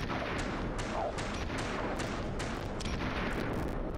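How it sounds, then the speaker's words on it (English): Rapid gunfire in the Western shooter video game Gun, a dense run of sharp shots and booms in quick succession, loud and close over a busy, noisy game soundscape, with no speech. "I keep shooting at him"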